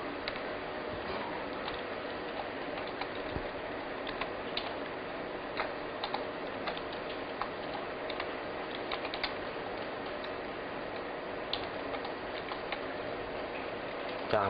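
A computer keyboard being typed on, a continuous stream of light, quick clicks over a steady hiss, fairly quiet and without speech.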